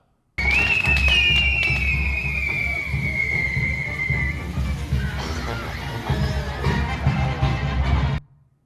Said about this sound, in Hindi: वो घूम घूम कर आतिशबाजी कर रहे थे